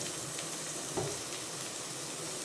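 Sliced ridge gourd and onion frying in a pan, a steady soft sizzle and hiss with a small clatter as the vegetables go in, faint and even throughout.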